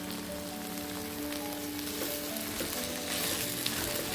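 Chilli powder fries in a pan for an okra tamarind curry, giving a steady, close, dense sizzle with faint stirring and no talk.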